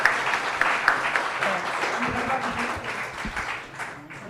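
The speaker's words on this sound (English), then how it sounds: "Can we you. give Juliet a big round of applause, please?" An audience claps in a venue after a talk, a dense wash of applause that starts strong and gradually tapers off, with a few voices murmuring underneath.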